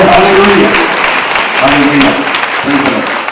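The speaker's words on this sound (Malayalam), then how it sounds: "കൈയടിച്ച് കർത്താവിനെ സ്തുതിക്കട്ടെ" A church congregation claps together in praise, a loud, dense wash of hands heard under a voice that keeps talking and calling out over it.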